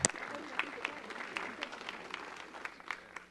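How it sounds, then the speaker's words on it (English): Light audience applause at a Long Beach Imperial Court anniversary ceremony, scattered claps from a modest crowd heard somewhat faint and distant, tapering off over a few seconds. "Let's give them a round of applause"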